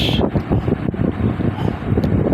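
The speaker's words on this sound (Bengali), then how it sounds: "এত পরিমাণের বাতাস মনে হচ্ছে এই নাই সব কিছু উড়িয়ে নিয়ে যাচ্ছে" Strong wind buffets the microphone in a steady, rumbling roar with gusty surges, loud and close, during a storm with lightning.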